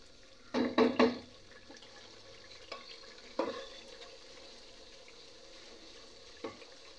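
Masala for kofta curry fries in oil, with a short run of loud stirring scrapes at the start and then a low, quiet sizzle broken by a few soft clinks.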